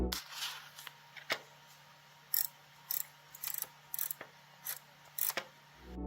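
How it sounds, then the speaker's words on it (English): Crisp ratcheting clicks from the scroll wheel on a VEIKK Studio 16 pen display, turned in several short bursts with brief pauses, close and quiet with no talking. "there's also a scroll wheel built into the side of the tablet. This feels really tactile to use and you can hear an audible click when you rotate it."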